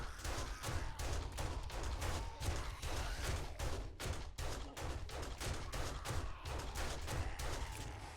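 Rapid, relentless gunfire pours into a zombie horde at night in 7 Days To Die. Loud shots crack in dense bursts and volleys, with almost no pause across the whole stretch.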